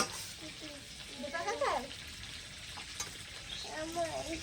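Food fries and is stirred in a kadai wok, a sizzling hiss with scraping stirs, while a voice talks over it now and then.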